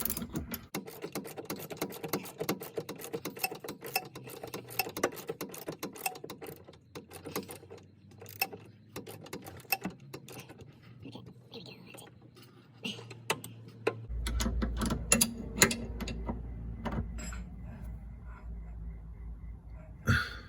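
Ratchet clicking as nylock nuts are tightened on a Subaru WRX rear sway bar, steady dense ticking of the pawl close up with some clunks, heavier low mechanical noise in the last few seconds.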